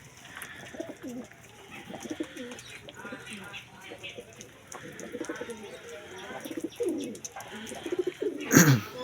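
Pigeons coo softly while eating in an aviary, with low murmuring calls and some shuffling beneath a voice talking throughout, ending in a sharp scrape.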